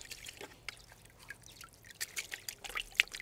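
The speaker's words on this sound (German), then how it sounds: "kann ich das Wasser gleich in die Töpfe gießen." Water poured into plant pots in a garden where small trees and bonsai are grown, heard as irregular trickles, drips and splashes that grow louder and more frequent toward the end, with no talking.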